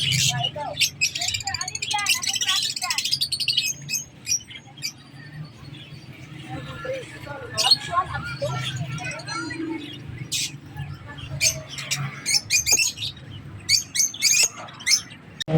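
High chirps and squeaks from African lovebirds in a shop or breeder's setting, several birds calling in quick irregular bursts close by, mixed with people talking throughout and some background murmur.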